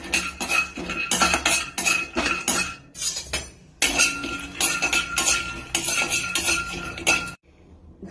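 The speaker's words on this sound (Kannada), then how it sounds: "ಇದನ್ನೊಂದು ಬಟ್ಲಲ್ಲಿ ತೆಕ್ಕೊಂಡು ಒಂದು ಬಟ್ಲಿಗೆ ಟ್ರಾನ್ಸ್ಫರ್ ಮಾಡ್ತಾ ಇದ್ದೀನಿ" Freshly fried peanuts rattle and clink against a metal bowl as they are scooped and tipped across, a busy run of close metallic scraping and tapping with a brief pause and a sudden stop at the end.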